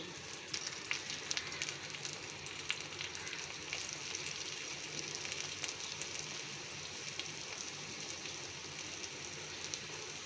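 Chapati made from flour fries in a pan with a soft, continuous sizzle and faint crackles. It stays low and even throughout, with no talking.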